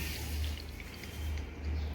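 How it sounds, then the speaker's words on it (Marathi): Water poured into a bowl of halim seeds for kheer, a soft, steady trickling fill that stays fairly quiet and runs throughout without pause. "हे बघा आता मी याच्यामध्ये पाणी टाकलेलं आहे"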